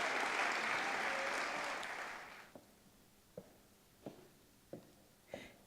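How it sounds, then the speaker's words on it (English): An audience at a school PTA awards celebration claps in a full round of applause that fades away after a couple of seconds, leaving a few scattered taps and footsteps in a quiet room. "So can we all give them a round of applause?"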